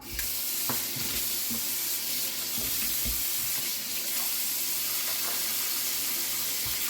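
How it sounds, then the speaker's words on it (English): Cold tap water runs steadily into a kitchen sink being filled for washing fruits and vegetables, a continuous close hiss and splash with faint clinks, no talking over it. "I'm going to fill the sink up here."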